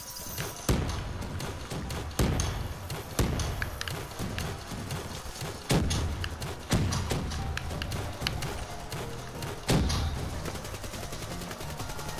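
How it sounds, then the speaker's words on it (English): Grenade launcher in Call of Duty: Black Ops III Dead Ops, a series of thumping blasts spaced through a busy stream of game effects and gunfire, fairly quiet, no talk. "Grenade launcher."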